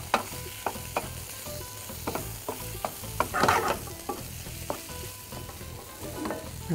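Potatoes frying in a pan are stirred now and then, giving repeated close scraping clicks and bumps over a steady sizzle, with no voices.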